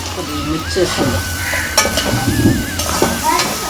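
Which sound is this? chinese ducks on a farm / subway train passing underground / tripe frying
tripe frying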